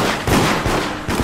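Gunfire in the multiplayer video game Deceit: a few loud, dense bursts of shots in close succession across a short moment, with no talking over them.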